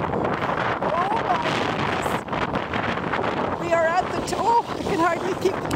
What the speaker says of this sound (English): we are under a snow squall, to put it mildly.